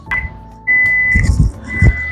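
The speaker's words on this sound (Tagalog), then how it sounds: "nag-alarm na yung rice natin" A rice cooker's alarm sounds in a home kitchen as a few sustained electronic beeps, near and fairly loud, alongside clattering handling noises.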